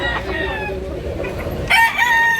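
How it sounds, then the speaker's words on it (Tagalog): Roosters crow loudly at a busy rooster market in Tabunok, Cebu, with a burst of crowing and clucks rising over steady crowd murmur and chatter. "Dami pang manok mga idol."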